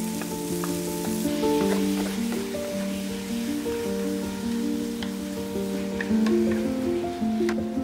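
Palm sugar and chicken filling for Thai sweet chicken tapioca dumplings cooks in a pan over medium heat, giving a steady, close sizzle and frying crackle with occasional stirring scrapes and no talking.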